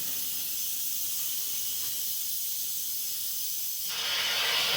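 A pressure cooker vents steam with a loud, continuous hiss that holds steady, then surges stronger and brighter near the end.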